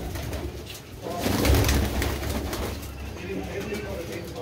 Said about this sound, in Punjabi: ਨਲੀ ਭਰਾ ਕਬੂਤਰ ਹੈ ਜੀ